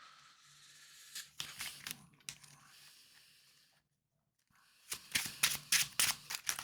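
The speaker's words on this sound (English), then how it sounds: "grab all of these cards and give them a good old shuffle" A deck of Marvel Champions cards is shuffled by hand: soft riffling and crisp flicking bursts in two clusters with a brief quiet gap between, close and fairly faint with no talking.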